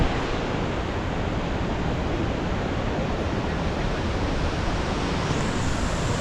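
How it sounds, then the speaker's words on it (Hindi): Water flowing on all sides in a village setting, a steady broadband rush like a stream or small waterfall, close and continuous with no voices. "चारों तरफ पानी बह रहा है"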